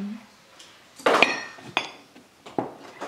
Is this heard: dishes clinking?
yes